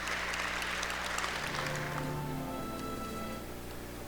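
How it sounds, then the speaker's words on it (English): Audience applause at an awards induction ceremony, a moderate, steady patter of clapping that gradually softens while music or hum sits underneath. "Give a round of applause to Wynn"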